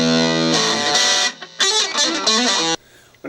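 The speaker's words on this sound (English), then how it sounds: "when you turn on your distortion," An electric guitar plays loud, heavily distorted chords and notes, with a brief pause midway before cutting off abruptly.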